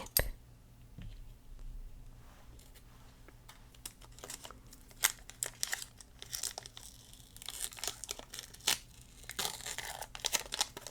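Scissors snip open a Pokemon card pack in a quiet close-up ASMR setting, with a series of sharp, crisp cuts mixed with foil crinkling and rustling that grow busier toward the end, with no voice over them.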